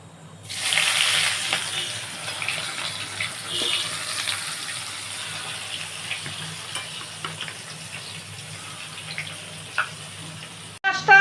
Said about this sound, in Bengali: ফোড়নটা হয়ে গেছে, এবারে আমি পেঁয়াজগুলো দিচ্ছি।